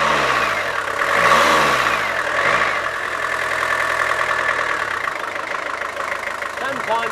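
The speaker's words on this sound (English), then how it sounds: "Right, start him up now then, Rich." An old engine, its alternator long kept on a shelf, started up and running with a steady idle and warbling tones, loud and close, with people talking over it.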